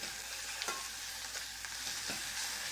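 Chicken carcasses and crushed garlic sizzle steadily in a pan, a continuous close frying hiss broken by a few brief stirring scrapes.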